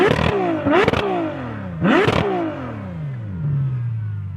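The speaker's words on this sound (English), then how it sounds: "We've then got the stealth tailpipes, which produce a phenomenal V12 soundtrack" Ferrari 812 Superfast V12 blipped through its stealth tailpipes in three sharp rising revs around the first two seconds, each falling away in a howling descent before settling into a steady idle burble, loud and close with no talking.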